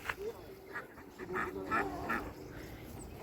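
Several short nasal duck quacks ring out at close range over a noisy outdoor background, coming in scattered bursts.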